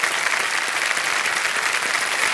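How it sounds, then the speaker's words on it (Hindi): Studio audience applause on a televised quiz show, KBC Season 14, a dense, steady wash of clapping filling the whole moment at full strength, with no voices over it. "तालियां बज जाए उनके लिए"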